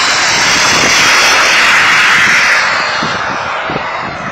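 A small RC turbine jet takes off, its engine a loud, steady high-pitched roar that fills the clip and begins to fade slightly toward the end as the model pulls away.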